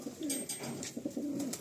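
Pigeons coo in low, rounded murmurs, repeated in short overlapping phrases close by, with no voices present.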